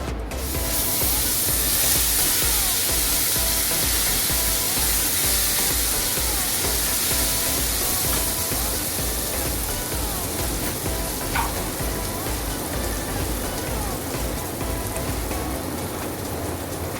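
Ginger garlic paste sizzles hard in a hot frying pan while a bitter gourd korma is cooked, a loud, dense, continuous hiss and crackle that stays even throughout, with an occasional stir.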